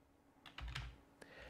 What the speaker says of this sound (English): If I keep typing